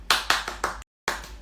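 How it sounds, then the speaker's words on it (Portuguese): A single person clapping nearby in a few crisp, evenly spaced claps, a brief silent gap, then another clap. "palmas para quem tá aqui já"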